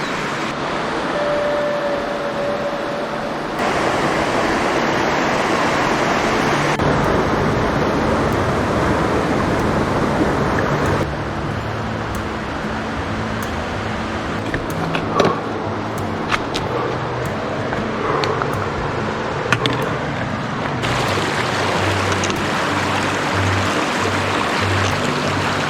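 A river rushes steadily at a hiking trail crossing, a loud, close, continuous broadband wash of flowing water with no talking.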